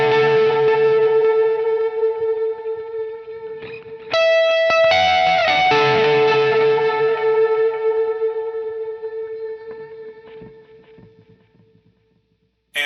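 Distorted electric guitar lead through a Line 6 Helix with delay and reverb, sustained bright notes ringing out, a second phrase entering midway, then a long echoing decay fading toward silence.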